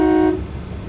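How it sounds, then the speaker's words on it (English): A single loud luxury yacht horn blast with a steady, tonal pitch, cut off after a moment and followed by low engine rumble. "I'm gonna honk the horn."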